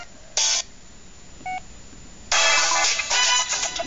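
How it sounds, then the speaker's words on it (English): A loud default ringtone on an Alias 2 phone plays in bright electronic tones, beginning with a short beep and a faint blip, then a sustained tonal burst, all close and sharp with no talking. "Like the default ringtones are very loud."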